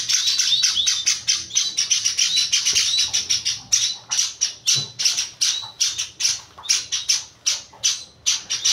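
Society finches chirping in an aviary, a dense, rapid chorus of high, bright tweets pulsing rhythmically and continuously, loud and close with no talking.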